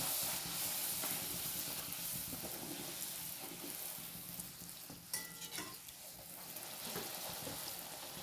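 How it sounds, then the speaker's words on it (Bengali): Luchi (puri) deep-frying in hot oil makes a close, continuous sizzle with a brief bubbling burst midway, with no one speaking. "দেখো, এক এক করে আমি লুচিগুলো সব ভেজে নিচ্ছি।"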